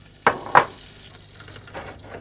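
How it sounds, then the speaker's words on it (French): A soft sizzle of butter and oil frying in a pan, with two brief louder crackling bursts near the start before settling into a faint hiss. "Ça grésille bien."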